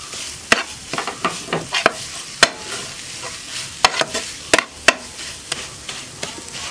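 Spoon scraping and clinking in a pan as chicken masala filling with coriander leaves is stirred, irregular sharp knocks over a soft sizzle.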